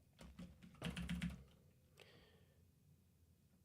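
Computer keyboard being typed on in quick bursts of clicky keystrokes, close and fairly quiet, with pauses between runs and a final tap at the end.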